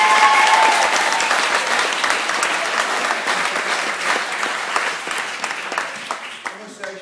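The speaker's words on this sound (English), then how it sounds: "so a round of applause for Jenna" Wedding guests applaud the bride Jenna in a dense, sustained wave of clapping that stays loud throughout and tapers slightly near the end, with a cheer and voices mixed in.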